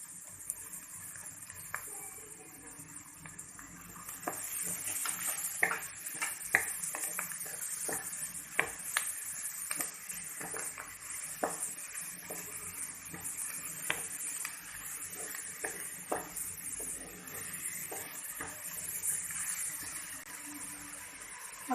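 Capsicum and onion being sautéed in a pan for chicken samosa filling: a soft, steady sizzle with scattered scrapes and clicks of stirring, quiet and close throughout.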